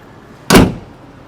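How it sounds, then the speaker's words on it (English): The bonnet of a 2026 Mercedes GLS 580 is shut in one loud, solid slam, followed by a short fading ring, with no voices. "And I will close the bonnet"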